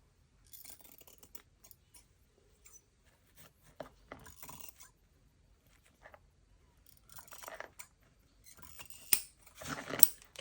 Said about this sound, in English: I'm just going to grab my fabric scissors and trim that gauze